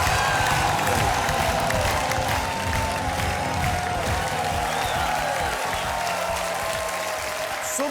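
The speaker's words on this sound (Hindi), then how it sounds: "कर साहब के लिए तालियां" Sustained studio audience applause on a Hindi TV game show, steady broadband clapping with some crowd cheer, loud and continuous throughout without a break.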